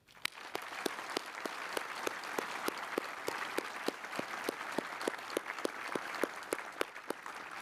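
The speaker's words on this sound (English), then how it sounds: "join me in a round of applause to welcome the Brown family." A room full of people at a military medical center change-of-command ceremony applauding steadily, with one loud, sharp clapper standing out in a regular rhythm over the general clapping.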